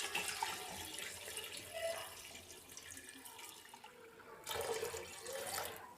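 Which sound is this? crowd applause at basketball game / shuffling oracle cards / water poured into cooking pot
water poured into cooking pot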